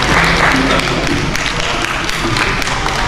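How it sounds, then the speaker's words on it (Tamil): An audience at an award function applauds loudly and continuously, a dense wash of clapping that fills the whole stretch without a break. "நல்லா கைத்தட்டுங்கோ"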